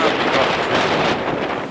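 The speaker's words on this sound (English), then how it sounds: "Too much wind here, I can't do it." Wind buffets the microphone in a steady, loud rumble and roar that runs unbroken for the whole stretch, with no other sound standing out.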